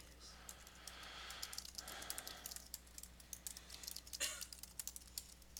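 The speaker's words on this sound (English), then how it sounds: "And I can just begin typing." Quick, irregular clicks of typing on a Mac computer keyboard, close and fairly quiet, with one brief louder clatter partway through.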